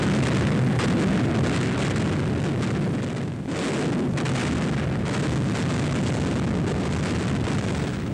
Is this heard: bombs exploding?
yes